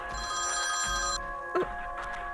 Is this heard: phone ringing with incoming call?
yes